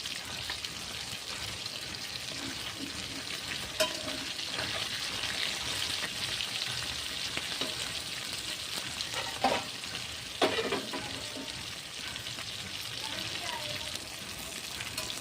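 Tilapia fish fry in oil, a steady crackling sizzle with occasional clinks and scrapes as the pieces are lifted out of the pan for a cauliflower and potato curry.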